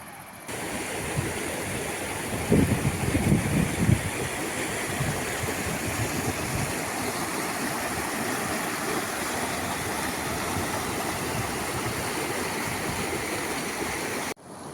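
A river in Kazakhstan's Kolsai lakes area rushes steadily where it flows into a lake through a small forested delta, a dense, loud, unbroken roar of water heard close and alone.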